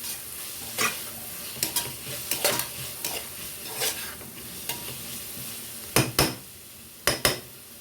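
A spoon stirs chicken gravy with coriander in a sizzling pan, scraping and clinking in irregular bursts, with sharper knocks toward the end over a steady low sizzle.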